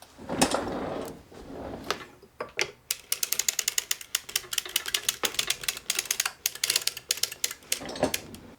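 A circular sock machine is hand-cranked through rows of knitting, giving rapid, rhythmic mechanical clicking and ratcheting that comes in bursts, with quieter handling noises and shuffling between.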